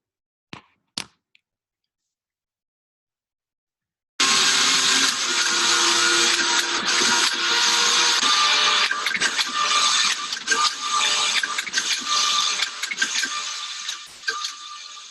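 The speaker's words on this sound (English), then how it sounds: "This 3D knit printer will print a new piece of clothing" A 3D knit printer making a piece of clothing starts up after a few faint clicks and runs as a loud, steady mechanical whir with rapid ratcheting clatter and gear noise that continues without pause.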